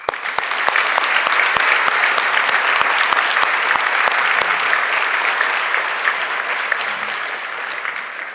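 A high school senior awards night audience applauds the award recipients, loud, dense clapping with a few sharp nearby claps standing out early, slowly thinning toward the end.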